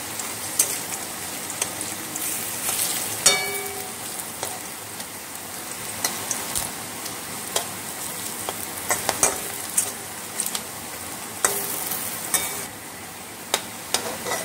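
Banana flower patties fry in a pan with a steady soft sizzle, broken by scattered crackles and a few sharper clicks of utensils turning them, with no talking.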